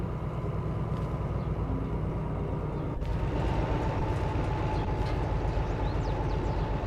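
Locomotive in the Derail Valley VR train game pulling away from a stop: a steady low engine drone with rhythmic rail clatter, loud and continuous, swelling slightly midway with a faint sharp click, no talking.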